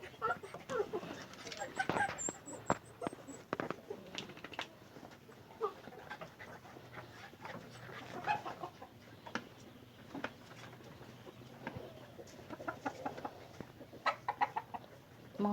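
Chickens cluck and fuss on a mountain farm amid dogs panting and yapping nearby, a busy scatter of short calls and rustles with voices talking in the background.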